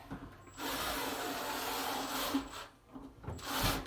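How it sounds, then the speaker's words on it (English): A power drill whirs steadily for a couple of seconds, stops briefly, then starts again with a grinding bite, pre-drilling holes in plastic in a mobile home bathroom. "we're pre-drilling the holes so that we don't break all the plastic"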